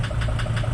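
A 2005 Mercedes Sprinter engine running with a knock, a steady rapid metallic ticking repeating about five times per second over the low engine hum, heard close up with no talking.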